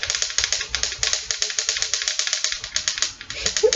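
Rapid, rhythmic rubbing strokes as a marker drawing on a screen is wiped away, a dense scratchy back-and-forth texture that runs steadily and loudly with no voices.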